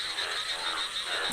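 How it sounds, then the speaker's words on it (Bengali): Bullfrogs croaking in a dense, continuous chorus during the rainy season, a steady rasping drone of many calls blending together outdoors. "বর্ষাকালে যখন বর্ষা হয় তখন এই ব্যাঙগুলো ডাকে।"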